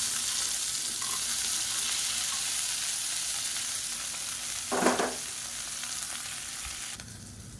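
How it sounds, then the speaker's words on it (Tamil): Sliced okra sautéing in oil in a pan gives a steady, close sizzle and frying hiss throughout, with one brief louder scrape or stir partway through. "இந்த வெண்டைக்காயை நல்லா வதக்கி எடுத்துக்கலாம்."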